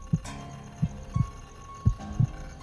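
A heartbeat sound effect in an audio drama of Poe's The Tell-Tale Heart: five deep, muffled thumps in loose pairs over a low hum, close and fairly quiet, with no voices.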